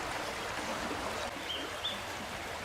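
The River Lyd flowing in the Forest of Dean near old railway stonework: a soft, steady rush of running water, faint and continuous throughout, with a couple of brief high bird chirps.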